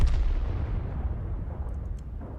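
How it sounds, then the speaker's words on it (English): An M44 artillery gun in a video game fires a round, giving a heavy boom at the onset that decays into a long rumbling tail. "firing another round in, and he kills the Churchill this time"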